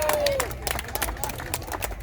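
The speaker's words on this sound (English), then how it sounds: "please give yourselves a round of applause" Outdoor car show audience applause with scattered claps and cheering, a short burst of many hands clapping with some chatter underneath.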